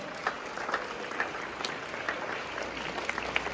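Audience applause at a school Children's Day speech, a steady wash of clapping hands with a few sharper claps standing out, moderately loud and continuous throughout.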